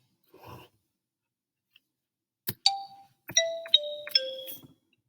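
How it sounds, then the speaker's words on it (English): A xylophone strikes a short so, mi, re, do descending pattern, a few bright clear notes ringing out in a quiet room after a brief faint sound. "try that pattern out on your xylophone"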